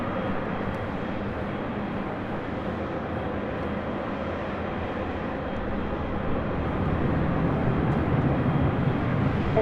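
A Delta Airlines Boeing 767-300ER arriving at LAX makes a steady, broad jet roar that holds level and swells slightly toward the end, with no voices over it.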